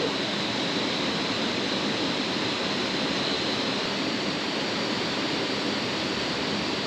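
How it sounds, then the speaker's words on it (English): Loud, constant rush of fast-flowing water in a jungle, a dense unbroken roar like a strong current or small waterfall close by. "now the water is very strong now"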